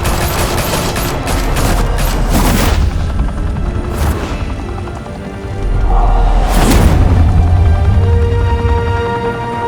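Dense, loud gunfire from a shootout in Batman: The Telltale Series, a continuous fusillade with heavy booms layered through, no voices.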